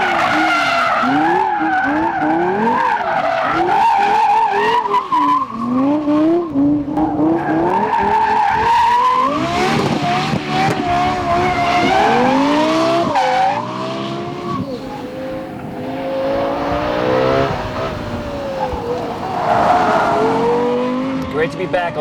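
Lexus LFA supercar driven hard, its engine revving and rising and falling in pitch while tires squeal and skid repeatedly, loud and close throughout with someone speaking over it at times.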